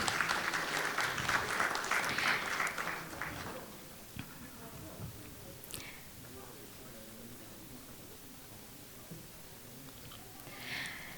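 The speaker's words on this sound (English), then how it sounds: "Professor Dr. Paras Mani Shrestha, with a warm round of applause, ladies and gentlemen." Conference audience at a urology meeting giving a brief round of applause that fades after a few seconds, leaving a quiet hall with faint murmurs and scattered noises.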